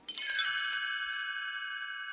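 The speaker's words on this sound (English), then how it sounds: "when you hear the chimes ring like this" A bright chime rings out once, loud and close, then its shimmering tone lingers and slowly fades away.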